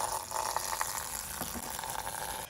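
Coolant drains out of a Ford 4.6L/5.4L modular V8 engine block, a continuous watery rush and splash into a bucket, with no talking.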